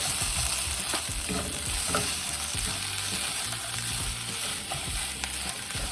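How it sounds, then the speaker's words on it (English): Minced garlic, about one to two cloves, stirred as it fries in a pan with onions for a quick budget dinner: a steady loud sizzle fills the whole stretch, with repeated utensil scrapes and clicks against the pan. "I'm gonna stir in a little bit of minced garlic"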